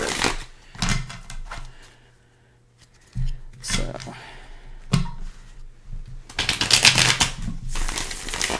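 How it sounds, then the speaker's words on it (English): A Morgan-Greer tarot deck is shuffled in several bursts of riffling and flicking, close up, with brief pauses between; a single spoken word is heard. "Shuffle it 7 times."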